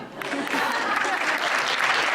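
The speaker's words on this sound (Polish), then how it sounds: "Brawa, brawa" Audience applause at a Polish Christmas carol and pastoral song competition: dense, steady clapping from a crowd that swells in the first quarter second and then holds at an even, full level throughout.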